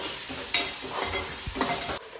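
Ginger garlic paste hits frying onion in a pan, producing a close, steady sizzle with a few scraping stirs and spoon taps, the hiss dropping slightly near the end, with no one talking.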